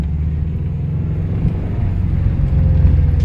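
A manual car pulling away in first gear, with a steady, loud low engine rumble heard from inside the cabin that builds slightly toward the end, and no talking.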